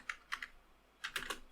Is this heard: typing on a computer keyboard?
yes